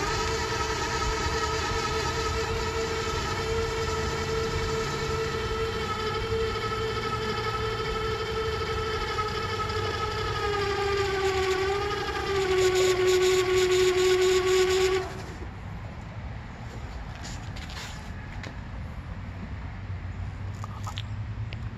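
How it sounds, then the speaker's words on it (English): An e-bike doing a burnout lets out a loud, sustained electric-motor whine with strong harmonics, bending slightly in pitch before cutting off abruptly, leaving a quieter rumble afterward. "what we got going on here today is an e-bike burnout"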